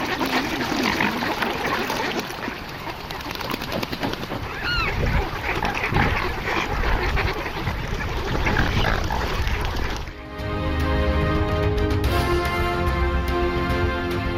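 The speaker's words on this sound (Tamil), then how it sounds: "நீந்துவதற்கும் இறை தேடுவதற்கும் வழியில்லாமல் தத்தளித்து வரும் அன்னப்பறவைகளின் நிலை" Swans in Ukraine struggle on frozen water, calling with loud honking, goose-like cries over a steady, busy outdoor background, then the scene cuts to a different, more tonal stretch near the end.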